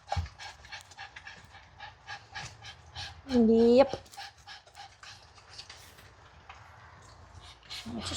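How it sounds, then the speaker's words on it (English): A Morkie dog pants rapidly and rhythmically close by during grooming, with a short louder whine-like burst in the middle, while a person speaks briefly. "Now you're panting."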